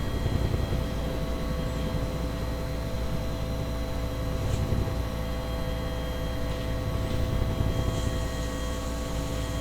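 A simulated helicopter in the X-Plane 11 flight game makes a continuous, even engine and rotor drone with a faint whine, steady and unbroken throughout, with no talking.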